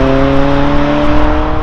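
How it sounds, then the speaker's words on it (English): A Ford Escort RS race conversion howls loudly through its exhaust as it accelerates hard in third gear, a steady, close, full-throated engine roar with no pauses. "that lovely howl from the exhaust is beautiful"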